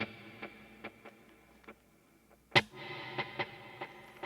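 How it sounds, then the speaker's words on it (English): Clean guitar notes plucked through a stereo transistor tape delay on an HX Stomp, each soft pick followed by ticking repeats, with one sharp louder strike midway and echoes trailing after it. "a transistor tape delay, which is also in stereo. It sounds like this."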